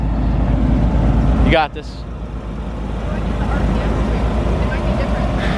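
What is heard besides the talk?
Corvette C5 Z06 pulling away in first gear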